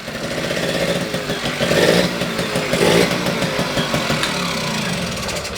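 A 1982 Yamaha LC50 automatic twist-and-go moped runs close by with a loud, buzzing two-stroke-style drone that swells slightly in two brief throttle rises before settling back to a steady hum.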